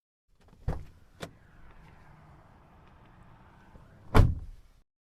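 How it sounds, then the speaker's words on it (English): A car's doors thump shut behind a hotel: two sharp knocks close together, a quiet pause, then a third heavier slam. "The car doors opened and closed."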